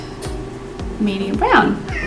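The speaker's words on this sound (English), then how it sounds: "Sorry if you hear my cats in the background." A pet cat meows once in the background, a short rising cry behind someone speaking close to the microphone during a makeup routine.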